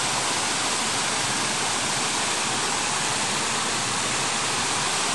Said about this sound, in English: Here's Beaver Meadow Falls.